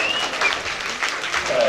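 Football crowd at a Summer Cup final between Kingborough Lions and South Hobart cheering and applauding at the final whistle of a 2-2 draw, a steady dense roar of claps and shouts lasting throughout.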